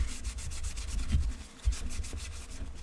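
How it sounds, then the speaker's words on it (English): Scrubbing an ICOM IC-F521 radio part with dish soap at a kitchen sink: steady, close rhythmic rubbing strokes with low thumps, continuous and fairly loud with no voices. "give it a good scrub."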